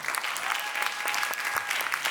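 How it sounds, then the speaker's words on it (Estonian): A studio audience at a comedy quiz show bursts into sustained applause, dense and even clapping that fills the room from start to finish with no talking over it. "Teeme ka suure aplausi Miikal Meemaa ja Marta Laan."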